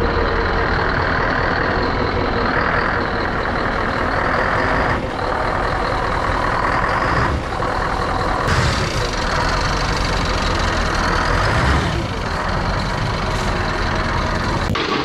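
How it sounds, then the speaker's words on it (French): A small truck's engine revs hard and steadily, straining to pull free from soft garden soil and grass, with the wheels spinning as the loud, continuous drone rises and falls. "on va pouvoir se tenter de se sortir le petit camion"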